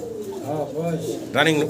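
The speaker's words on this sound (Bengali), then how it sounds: "ইংলিশ টাম্পিটার সিঙ্গেল, অনেক সুন্দর একটা।" A single English Trumpeter pigeon at a pigeon farm coos softly in low, rolling phrases, close by, while someone talks over it.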